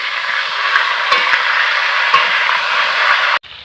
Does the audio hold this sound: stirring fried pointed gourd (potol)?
yes